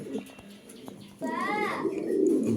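A white male pigeon coos in a short, rising and falling call, close and moderately loud, with background voices and noise around it.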